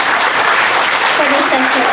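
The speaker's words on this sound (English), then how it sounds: "We need a round of applause." An audience at a fireside chat on AI and programming careers applauds with dense, steady clapping that holds at an even, loud level throughout, with voices faintly calling out beneath it.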